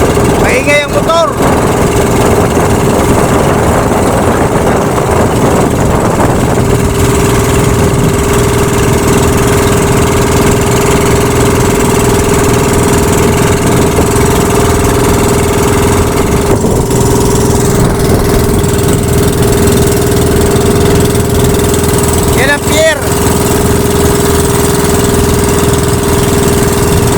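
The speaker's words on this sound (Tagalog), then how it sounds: "Maingay ang motor." A boat motor runs loud and close on a trip out to sea toward an island, a steady droning hum with knocking vibration that persists unbroken throughout, with a few faint voices underneath.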